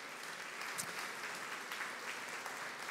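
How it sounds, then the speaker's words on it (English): A church congregation claps together in a continuous, dense patter of many hands, fairly soft and distant, holding steady throughout with no speech on top. "Come on, let's give God a hand clap."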